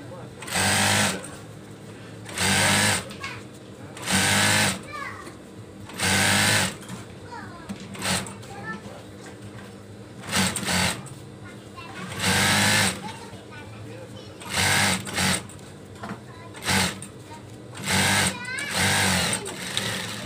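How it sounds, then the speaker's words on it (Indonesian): A sewing machine stitches a fabric cover for a gallon water jug in a series of loud, steady bursts of whirring, each a second or two long, separated by short pauses in which someone speaks. "seperti ini cara menjahitnya"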